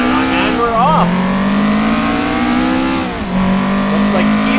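A pack of Toyota AE-86 race cars launching at the start of a sim race at Lime Rock, with loud engines revving up and shifting through the gears together, close and continuous.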